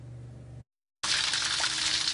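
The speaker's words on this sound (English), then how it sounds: "Snowmelt is already surging into storm drains here in Running Springs and racing through Dry Creek." Snowmelt water rushes steadily into storm drains in a mountain town after a blizzard, a loud continuous broadband gush that cuts out briefly and then resumes.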